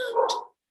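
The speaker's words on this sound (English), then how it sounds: "Sorry about my dog in the background." A single dog bark, short and muffled, in the background of a quiet indoor room with no other sounds.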